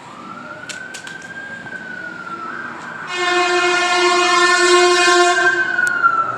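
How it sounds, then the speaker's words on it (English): A loud vehicle passes on a West Hollywood street in Los Angeles, its tonal horn-like blare rising to a strong, sustained harmonic wail in the second half before fading, with no talk. "Sorry, there's a loud truck."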